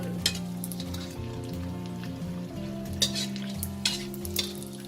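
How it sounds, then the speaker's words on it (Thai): Fish skin sheets fry in oil over low heat, giving a steady close bubbling sizzle with occasional stirring scrapes and light clinks. "ต้องทอดทีละแผ่นนะ"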